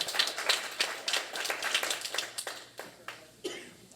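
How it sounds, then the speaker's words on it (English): Scattered hand claps from a small audience at a community event, a few distinct near claps at first and then sparser, fading claps over about four seconds. "So let's have a big round of applause."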